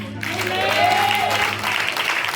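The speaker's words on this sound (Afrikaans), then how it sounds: "Kom ons klap vir hom." Audience applause at a gospel concert, a brief burst of clapping from a hall crowd, fairly loud and steady for a couple of seconds, with a voice faintly audible underneath.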